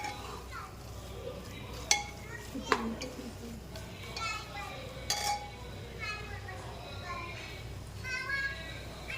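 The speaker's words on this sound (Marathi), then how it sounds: "आता सगळं मिक्स करून घेते मसाले" A spoon scrapes and clinks against a pot while stirring spices into chicken, with a soft sizzle underneath and people talking nearby.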